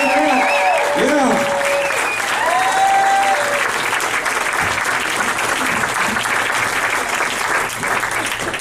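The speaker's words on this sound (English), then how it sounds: "Big round of applause for Mr. John Tabiz, ladies and gentlemen" Audience applause at a comedy graduation show, loud dense clapping from a crowd that fills the room and holds steady throughout, with voices calling out and whooping over it near the start.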